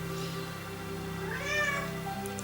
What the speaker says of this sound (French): il y a Étoile, ma petite chatte, qui est en train de miauler parce qu'elle n'est pas contente à chaque fois que je fais mes tirages.